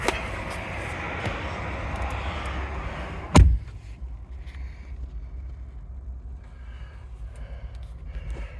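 Door of a 2024 Ford F-150 Lariat shutting with a single solid thump midway, after outdoor ambience that drops to a quieter cabin hush.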